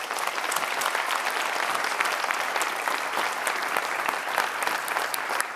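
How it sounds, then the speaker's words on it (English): An audience claps continuously for panelists at an industry conference, a steady, dense round of applause at moderate loudness. "I'd like to request a round of applause for our panelists today, please"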